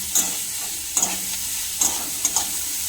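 Vegetables for a momo filling, including carrot, fry in a little oil with a steady sizzle, while a spatula scrapes and clatters against the pan in four or five sharp bursts, close up and without talk.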